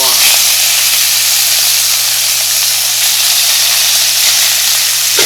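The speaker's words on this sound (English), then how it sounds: "you want to hear that nice sizzle because that's what's going to really brown the short ribs" Beef short ribs searing in a hot pan give a steady, loud sizzle and hiss that runs without a break for the whole stretch, with no voices over it.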